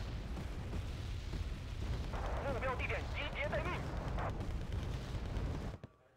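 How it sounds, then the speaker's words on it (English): Mortar fire and explosions in the Wargame: Red Dragon strategy game, a dense rumbling barrage with muffled booms under a constant battle din, mid-level and steady before cutting off abruptly. "The mortar is putting in work."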